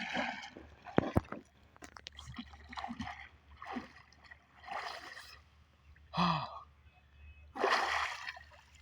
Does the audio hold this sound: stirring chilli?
no